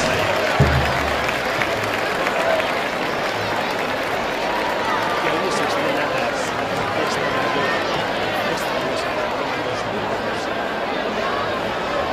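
Festival crowd at a Festa Major applauding the castellers of Laietans de Santa Coloma as they enter the square, sustained clapping mixed with chatter and a dense crowd murmur.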